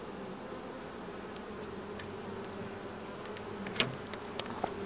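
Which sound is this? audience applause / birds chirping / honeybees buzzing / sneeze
honeybees buzzing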